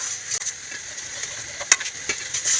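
Biryani ingredients roasting in a pan while a utensil stirs them, giving a steady close sizzle with scraping strokes and a few sharper clinks, with no talking.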